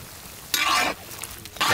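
Chicken frying in ghee for a village-style ghee roast, with close, bright sizzling that flares in short bursts as it is stirred, heard alone without talk.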